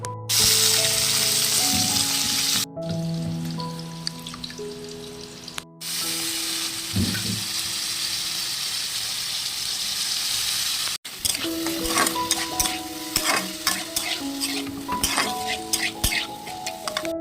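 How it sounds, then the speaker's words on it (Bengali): Pasta ingredients frying with salt in a home-style pan, a steady sizzle with occasional clinks and scraping of a utensil, mixed with sustained tonal background sounds throughout. "নুনটা দিয়ে ভালো করে আমি একটু ভাজা ভাজা করবো"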